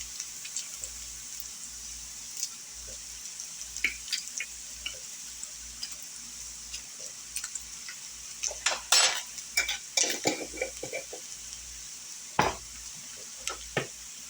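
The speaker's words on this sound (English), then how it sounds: "We're just going to whisk it in together" Flour gets whisked into a pan for a SPAM pasta dish, giving faint, quiet scraping and light clinks of a whisk against metal over a low background hiss, with a brief cluster of louder taps near the end.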